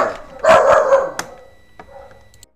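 Dogs barking outside, a couple of strong barks up front and then quieter, more distant yips trailing off.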